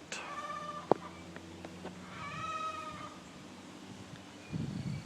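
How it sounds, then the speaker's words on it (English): Chickens wanting out of their enclosure let out drawn-out, harmonic squawking calls in two stretches in a garden, moderately loud against a steady outdoor background, with a rustling noise near the end. "That horrible sound you're hearing is the chickens saying they want out."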